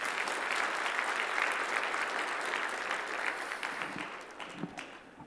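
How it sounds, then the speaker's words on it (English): An audience at an academic conference keynote applauds with dense, even clapping that fades and thins toward the end, with no one speaking over it. "So let me, give a loud applause to Professor Scaramuzza."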